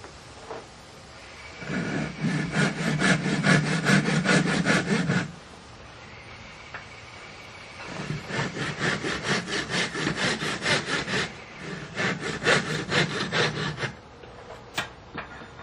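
Sandpaper rubs the bottom of a wood-turned vessel on a spinning lathe, working up from 120 to 240 grit. It makes rhythmic rasping strokes in three long spells with short pauses between them.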